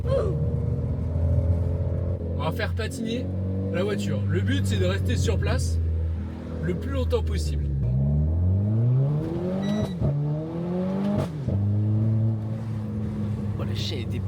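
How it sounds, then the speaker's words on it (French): A BMW M3 held in place while spinning its wheels, the engine revving high in long rising and falling sweeps, loud and close, with someone talking over it. "On va faire patiner la voiture. Le but, c'est de rester sur place"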